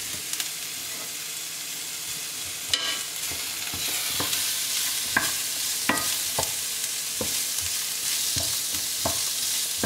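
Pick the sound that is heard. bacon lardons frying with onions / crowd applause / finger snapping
bacon lardons frying with onions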